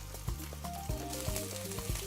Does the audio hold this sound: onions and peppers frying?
yes